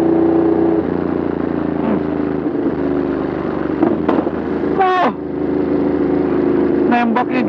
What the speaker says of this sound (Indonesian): ini knalpotnya tidak friendly sama sekali ya